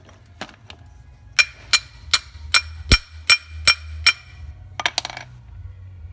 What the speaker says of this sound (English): this can be cured by tapping the valve lightly with a plastic handled screwdriver